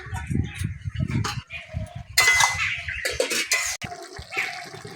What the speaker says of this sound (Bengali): ঢাকাটা খুলে দেখে নেবো শাকটা সিদ্ধ হলো কিনা